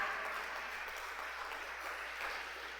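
A church congregation claps during worship, a steady wash of many hands that sounds somewhat distant and soft, with faint voices underneath.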